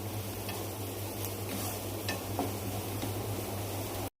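Ginger garlic paste, fried onions and turmeric are stirred in a pan for chicken curry: a steady low sizzle with light scraping and faint ticks of a spoon, then sudden silence at the end.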